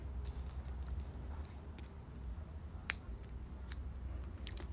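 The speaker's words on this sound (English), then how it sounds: "you can cut your yarn, your white yarn at this point" Scissors snip white yarn in a quiet room, a few soft close clicks with one sharper cut near the end, over faint background hiss.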